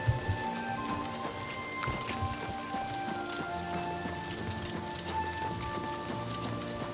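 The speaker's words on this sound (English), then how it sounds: "I can see the water drops hitting the surface of the water from this high up" Rain patters steadily onto a lake in the game Oblivion Remastered, a dense, even hiss of drops with faint tonal background music running underneath throughout.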